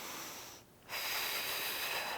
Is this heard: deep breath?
yes